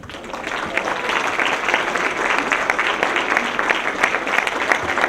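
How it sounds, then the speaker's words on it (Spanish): Sustained, dense applause from a seminar audience at the close of an international data protection event, steady and loud throughout with no clear gaps. "Despidámoslos con un fuerte aplauso."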